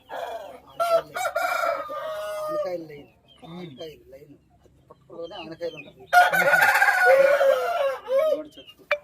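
A fighting rooster crows loudly nearby twice, long strained calls separated by clucking, with someone talking between them.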